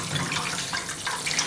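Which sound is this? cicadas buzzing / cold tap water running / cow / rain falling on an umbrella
cold tap water running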